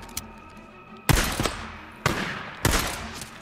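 Gunfire in Days Gone: a faint early shot, then three loud bursts of rapid shots spaced about a second apart, each trailing off with echo.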